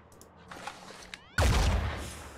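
Machine gun fire in the video game Phoenix Point, arriving midway after a quieter stretch with faint taps, then a sudden loud burst that keeps roaring and slowly tails off.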